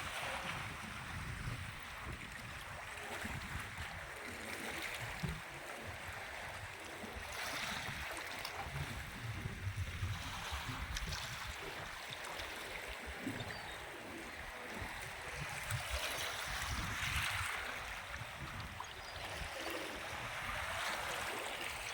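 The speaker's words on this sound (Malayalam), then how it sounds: "ഇത് കടലാടാ." Seawater washes continuously against a shore as the tide rises, a soft, hissing wash of surf mixed with wind rumble buffeting the microphone. Faint and steady throughout, with no voices.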